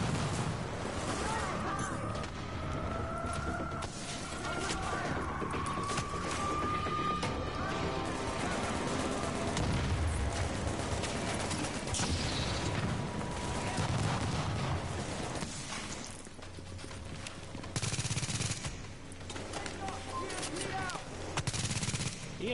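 Turret gunfire in The Division video game: rapid bursts of automatic shots and distant booms in a sustained firefight, with voices talking over parts of it.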